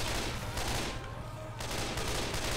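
Rapid gunfire from a gun in Left 4 Dead 2 rattles in dense, loud bursts with a brief lull in the middle before the shooting resumes.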